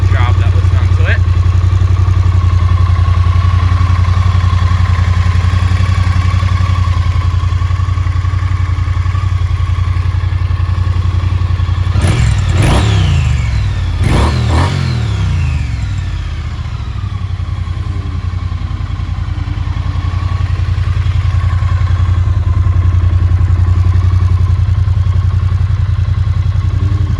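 A 2018 Triumph Street Twin in Jet Black with a powder-coated exhaust rumbles steadily at idle, a deep continuous drone with a couple of sharp clattering bursts midway, while a person talks over it.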